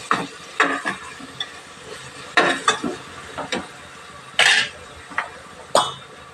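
Pieces of ridge gourd hit a hot pan and are stirred, giving a run of separate sizzling bursts and scraping clatters against a quiet background.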